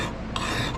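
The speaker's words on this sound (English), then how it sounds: "See this file here?" A metal file rasping across annealed, softened steel on a chopper knife build, giving a short, close, continuous scraping stroke that sharpens slightly partway through.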